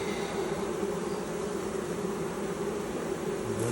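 Honey bees buzz steadily around a newly installed hive, a dense, continuous drone that stays loud and even throughout with no voices.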